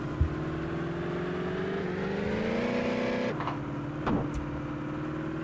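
A camper van RV engine drives steadily in Totally Accurate Battlegrounds, a continuous droning hum whose pitch rises gradually, then drops abruptly with a brief clunk near the end; no talk.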